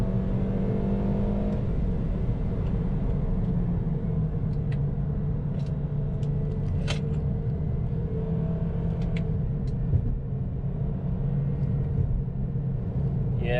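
A Toyota Corolla XR sedan accelerating hard through corners, its engine a steady, loud low rumble with rising revs and tire-and-road noise throughout, close and continuous.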